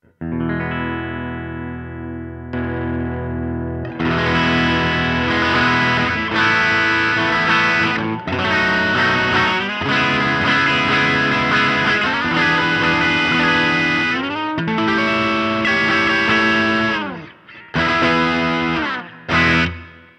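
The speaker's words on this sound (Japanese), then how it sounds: "ナチュラルな感じのやっぱりオーバードライブですねすごく気持ちいいですね音が" An electric guitar played through a KARDIAN SEROTONIN ORIGIN S.T. overdrive pedal into a JC amp's clean channel, knobs at noon, warm and gritty chords and sustained notes ringing out loudly with a natural crunchy drive, no talking.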